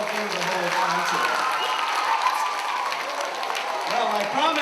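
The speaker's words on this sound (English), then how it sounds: "let's give them a big round of applause" A concert audience applauds in a steady, dense wash of clapping with some cheering mixed in, sustained throughout at a moderate level.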